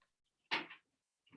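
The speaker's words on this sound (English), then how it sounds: "So I just want to shut the door." A door is pushed shut indoors, giving one short, sharp knock with a brief scrape. Quiet surrounds it, and a faint sound starts just at the end.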